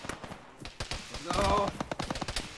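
Bursts of gunfire in the military video game ArmA during a ShackTac session, rapid close shots and a denser volley in the middle, mixed with a voice talking over the shooting.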